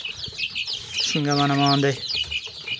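Small chicks sick with diarrhoea peep and cheep in quick high bursts, with a louder, drawn-out clucking call in the middle, while a person speaks over them close by.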